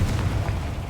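A Confringo blasting-spell explosion in Hogwarts Legacy, a short loud low boom with a rumbling tail that fills the whole moment on its own.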